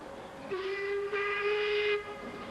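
Fowler steam locomotive sounding its whistle, a sustained tonal blast with a short break partway, then a longer steady note, fairly loud and clear over quiet background.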